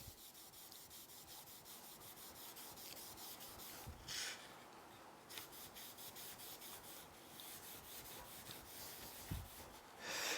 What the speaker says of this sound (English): I'm going to rub this off.